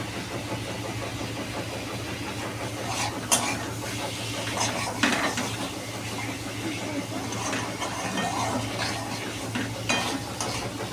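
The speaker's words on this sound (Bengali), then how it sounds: "ভালো করে সাতলাবেন।" Spice masala sautéing in a pan, with a steady sizzle, occasional scraping and clinks of stirring against the metal, and a low background hum throughout.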